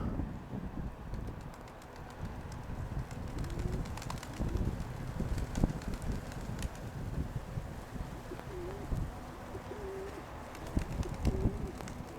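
Pigeons cooing outdoors in a steady breeze, soft repeated coos drifting over wind noise with occasional flutters, no talk over them.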